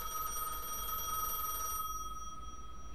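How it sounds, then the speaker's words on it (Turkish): A telephone rings steadily in the video game Gas Station Simulator, a loud continuous electronic trill that stops partway through, leaving only a faint background hum. "Kalk ve telefona cevap ver."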